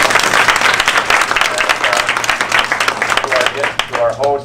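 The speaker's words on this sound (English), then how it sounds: "Give her a round of applause." Audience at a town hall meeting breaks into sustained applause, dense clapping filling the room with voices mixed in and fading toward the end.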